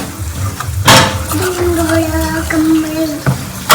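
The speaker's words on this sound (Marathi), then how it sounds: "पापड बघू शकता इथे कसं फ्राय होत आहे" Papad frying in hot oil crackles and sizzles close up, with a sharp pop or two, while a person talks over the cooking.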